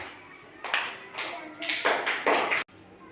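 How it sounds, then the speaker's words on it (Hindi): Brief bursts of clapping for a child during a Hindi letter-ordering activity for kids, a few short rounds of applause ending abruptly, with talk around them. "जोरदार तालियां।"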